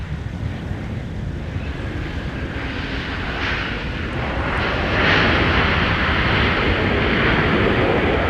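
An airplane landing on runway 12 Right at Minneapolis–St. Paul airport on a winter day, a steady broadband engine roar against wind noise that swells louder in the second half as it passes close.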